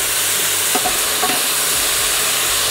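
Leeks and potatoes cook in a pan for a leek, potato and parmesan gratin, giving a steady, even sizzle throughout with a couple of faint stirring scrapes partway through.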